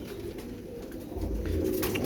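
Pigeons coo at a busy pigeon market in Shahdara, Lahore, a soft low throaty burbling close by, with faint background bustle.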